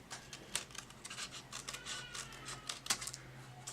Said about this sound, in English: I can take my scissors and